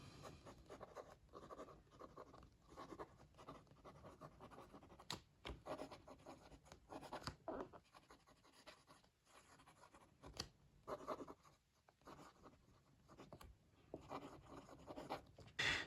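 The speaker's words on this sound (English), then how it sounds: "let's do a writing sample." A Benu Autograph fountain pen loaded with wet dark blue ink scratches steadily across paper, close and quiet, in bursts of strokes separated by brief pauses, with no talking.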